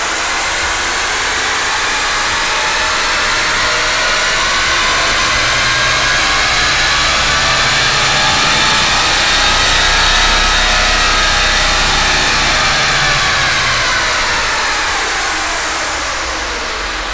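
A MK6 Jetta TDI diesel engine revs on a dyno, a loud sustained roar whose pitch climbs steadily then falls back near the end, close and unbroken with no talk.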